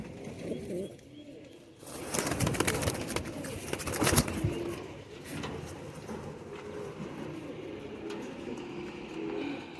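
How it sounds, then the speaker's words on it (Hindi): Kabuli high-flyer pigeons coo softly in low rolling bursts nearby, joined midway by loud clattering and scraping knocks, with faint murmuring voices in the background. "ये वो कबूतर हैं नवीद भाई जो बस संभाल कर रखे हुए थे।"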